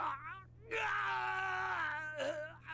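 A crewman's agonizing scream from the Persona 4 Arena Ultimax fighting game, a short cry followed by a longer drawn-out wailing groan that bends in pitch, loud and alone with no other talk.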